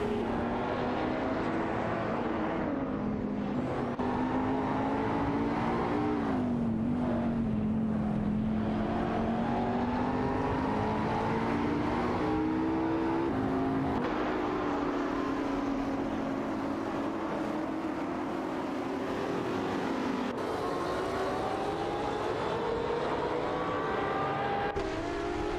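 Race cars, among them an Aston Martin Vantage, roar through an AI-driven racing video game, with steady engine drone and shifting pitch that rises and falls continuously throughout.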